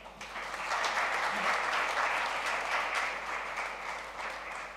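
An audience at a charity awards night for the Mumbai Marathon applauds steadily, a dense wash of many hands clapping that swells and holds before tapering slightly.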